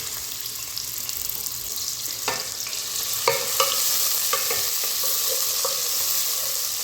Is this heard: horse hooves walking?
no